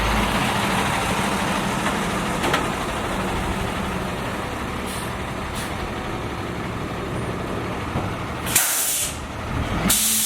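A tow truck idles close by under a steady broadband rumble, with a loud burst of air brake hiss near the end followed by a second shorter release.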